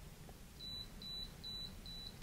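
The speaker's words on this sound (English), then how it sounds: "There was four beeps, and then a pause, and then one more beep." A small model-rocket mini altimeter beeps out its battery voltage: four clear, evenly spaced electronic beeps, the last one fainter, over a quiet background hiss.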